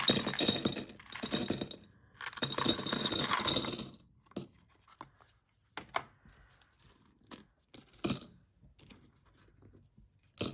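Loose change pours into a small glass jar in two rattling cascades, followed by scattered single clinks as the last coins drop in. The sound is close, with no one speaking.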